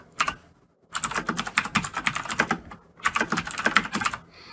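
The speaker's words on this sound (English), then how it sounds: "we're just going to start typing in the values of the elements" Rapid typing on a computer keyboard while entering array element values in C# code, two dense bursts of close, crisp key clicks separated by a short pause, with no talking.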